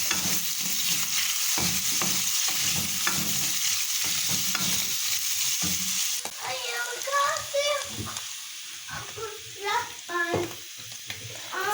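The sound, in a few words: mushrooms frying in butter with salt and pepper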